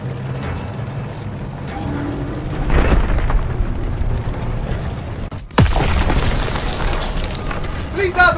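Tank cannon blasts and heavy mechanical clanking in the Call of Duty: WWII battle game, with a sharp loud explosion midway, then rumbling combat noise as voices shout over it.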